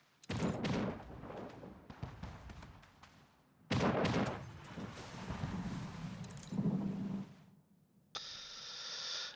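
Cannon fire in Anno 1800 booms out in separate loud salvos with rumbling tails, heavy blasts broken up by short quiet gaps.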